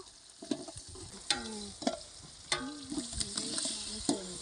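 Onions frying in a pot for chicken biryani cooked outdoors in a forest, with a steady sizzle broken by several sharp clanks of a stirring spoon against the metal pot.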